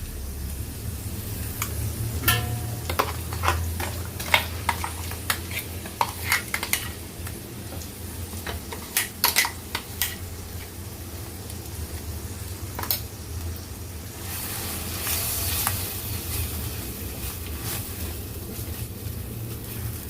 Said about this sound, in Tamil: வெங்காயம் வதங்கிட்டு இருக்கு